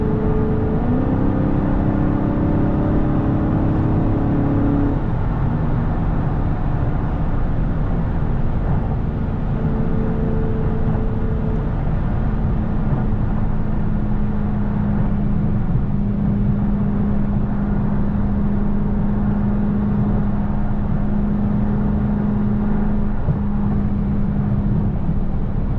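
A Dodge Charger Scat Pack cruising along a highway, its engine holding a steady low drone with constant road and tire roar, one brief shift in pitch early on, and no talking.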